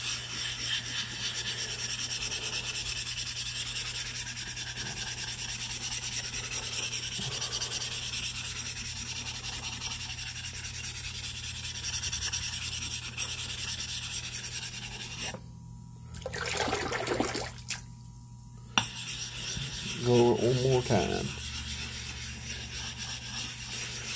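A diamond sharpening plate is rubbed in crisscross circles and opposite directions to break it in, giving a continuous, gritty scraping that runs steadily, pauses briefly, then resumes with a few closer scuffs.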